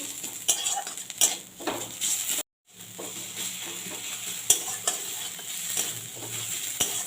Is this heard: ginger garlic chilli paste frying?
yes